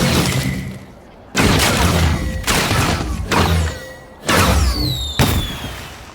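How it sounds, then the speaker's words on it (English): A fireworks show for the Crystalling celebration in a cartoon, several loud booming bursts spaced about a second apart, some trailed by whistling rising streaks and crackle. "Then why are they starting a fireworks show?"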